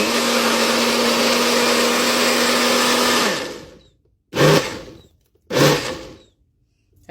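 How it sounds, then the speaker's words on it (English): A countertop blender purées a cooked sauce for Senegalese thieboudienne, a steady loud motor whine that runs for about three seconds and then spins down, followed by two short pulsed bursts. "So I'm going to be blending this."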